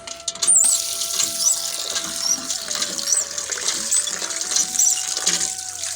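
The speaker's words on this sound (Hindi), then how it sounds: "ये दूसरी बार धो रही हूँ, पहले भी धोया था। डबल वाश हो रहा है।" Raw mutton is rinsed in a basin of water for curry, with steady splashing and sloshing under a faint tone, and occasional louder swishes as the meat is handled.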